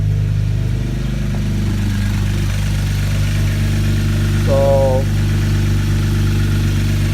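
A Kia Stinger GT engine idles steadily after a spark plug change, a smooth, constant low hum, close by, with a few faint squeaks over it.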